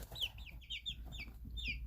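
Chicks about five weeks old cluck and peep in a brooder, a quick series of soft chirping calls repeating close by over low background hum.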